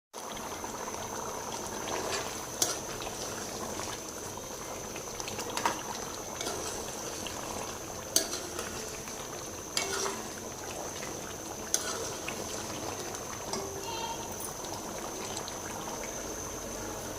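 Meat (namkeen gosht) simmers and bubbles steadily in a pot as its water boils off, a constant soft sizzle with a few small pops and clicks now and then.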